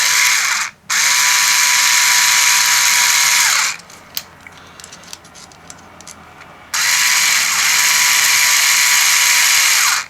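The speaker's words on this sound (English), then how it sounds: "So now when I do electric screwdriver, I can actually feel the whole cube actually bunching up" Electric screwdriver assembling a Dayan Panshi puzzle cube, whirring loudly in two long runs with a pause of small clicks and handling noises in between.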